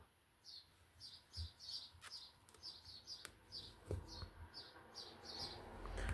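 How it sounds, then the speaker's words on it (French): House sparrow chicks chirp in a nest right against a window, giving a steady run of soft, high, rapid chirps in quick clusters. The sound is faint over quiet room noise with a few small knocks, and no one talks. "Vous entendez les petits moineaux de mon petit nid qui est vraiment collé à ma fenêtre."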